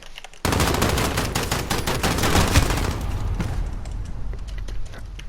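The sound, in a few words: gunfire from a video game shooter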